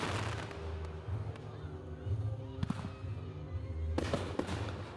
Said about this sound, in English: You can see the fireworks in the O3 air unit